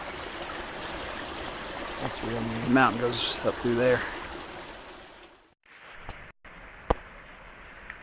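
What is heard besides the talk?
small waterfall in a remote valley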